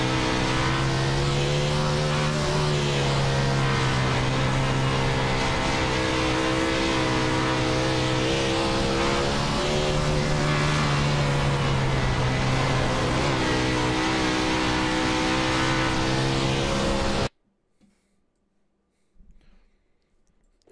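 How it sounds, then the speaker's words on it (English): Non-wing sprint cars at 720 horsepower racing in a USAC 360 event on a dirt track at Eldora: a loud, sustained engine roar that swells and dips as the cars lap, then cuts off abruptly, leaving near silence. "This is a bit what these non-wing sprint cars sound like in real life."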